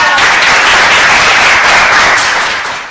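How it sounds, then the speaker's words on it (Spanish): Loud, dense applause from a crowd greeting a runner who just finished a weekend race, steady clapping sustained for about three seconds before starting to fade. "¿Le damos un aplauso?"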